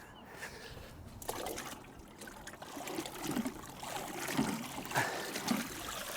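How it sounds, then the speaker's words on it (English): Water splashing and trickling over an Arrma Fury RC short course truck during a wash, a steady close wet wash with irregular louder bursts throughout. "let's give the Arrma a good wash there"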